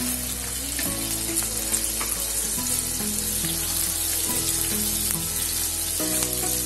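Cumin seeds sizzling in hot oil reused from earlier sautéing, a dense, loud, continuous crackling hiss that fills the whole stretch with no voices.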